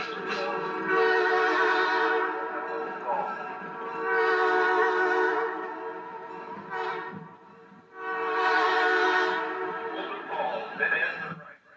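A 1990 Chelatchie Prairie Railroad train runs toward Moulton Falls, sounding three long, loud, sustained horn blasts with short gaps between them.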